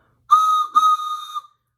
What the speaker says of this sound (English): I even brought my train whistle.